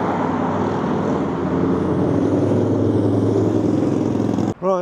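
Road traffic at Weymouth Harbour passes close by in a steady, loud engine rumble, with vehicles droning past continuously before a sudden brief drop near the end.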